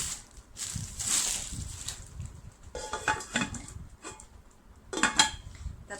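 The lid of a Prestige nonstick cookware set is handled, giving light metallic clinks and clattering bursts in a few separate clusters with quiet gaps between them.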